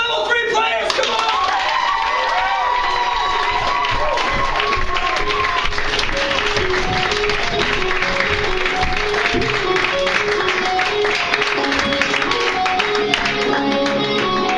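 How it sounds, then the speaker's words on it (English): Audience applause and clapping at a student improv showcase as level 3 players come onto the stage, dense and sustained throughout with voices and crowd noise mixed in. "you guys are going to applaud wildly when they come in"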